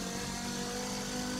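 Race car engine in the Forza Motorsport 7 video game, a steady, droning hum of the motor under acceleration, heard alone for a brief moment.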